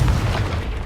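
A Confringo spell explosion from the Hogwarts Legacy video game on PS5, a single loud, close boom with a deep low-end thud that decays into a rumbling tail.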